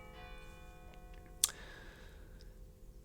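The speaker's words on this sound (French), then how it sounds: "Ah, les cloches." Bells ring in a video game, a sharp metallic strike with a lingering tone over a soft background of steady tones and light ticking, fairly faint with no speech.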